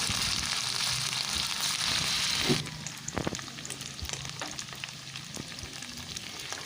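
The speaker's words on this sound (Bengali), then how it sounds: "আমি তেলের মধ্যে ছেড়ে দিচ্ছি আর ছেড়ে দেওয়ার পর এটাকে গ্যাসের ফ্লেমটাকে মিডিয়ামে করে দিতে হবে" Cauliflower florets frying in hot oil over a medium gas flame for a cauliflower Manchurian, a loud steady sizzle that settles after they drop in, with a few clinks and stirring knocks.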